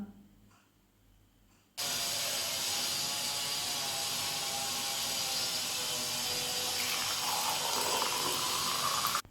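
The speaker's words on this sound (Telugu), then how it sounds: "గ్లాస్లో పోస్తున్న వాటర్లో కెమికల్స్ చూసారా" After a quiet start, water pours into a glass in a loud, steady rush that continues for several seconds before stopping abruptly.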